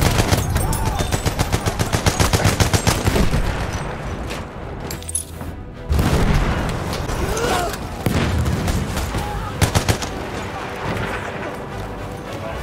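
Fyodorov rifle fire in a Battlefield 1 match comes as rapid bursts of sharp, loud shots in quick rhythmic volleys, broken by short pauses and distant booms, with a voice talking over parts of it.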